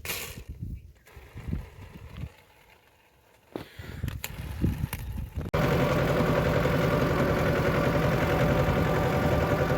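A tractor engine works near a groundnut field, with scattered knocks and a low rumble that rises into a loud, steady, close-up drone for the second half.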